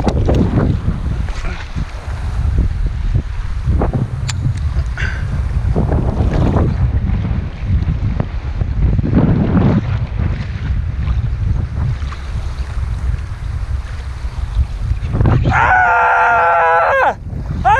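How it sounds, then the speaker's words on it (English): Strong wind buffets the microphone during striped bass fishing on the water, a loud, continuous roaring rumble with surging gusts, and a brief whirring reel-like buzz near the end. "It is so windy."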